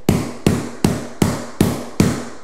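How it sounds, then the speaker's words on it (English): A hammer taps Lifeproof vinyl plank flooring into place: six sharp, evenly spaced knocks about 0.4 seconds apart, each with a short ringing decay, close and loud with no talking. "you can take your hammer and you can feel it"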